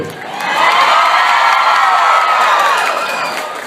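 A large crowd screams and cheers loudly, the shrill roar swelling quickly and holding steady before easing slightly at the end.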